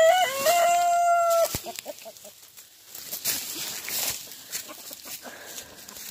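Chicken vocalizing close by, a long drawn-out crowing call at the start followed by a string of softer, scattered clucks and faint movement noises.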